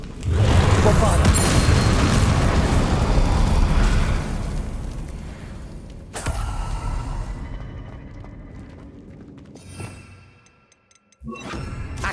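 A Bombarda spell is cast in Hogwarts Legacy and goes off as a loud, close explosion, with a heavy rumbling blast that slowly fades, then a second, smaller burst and a few brief clinks as it dies away.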